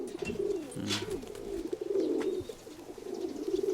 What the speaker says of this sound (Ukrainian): Цей голубочка